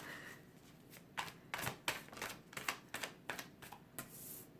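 Soft repeated riffling bursts of cards being shuffled, about a dozen quick flutters in a steady rhythm, close and fairly quiet.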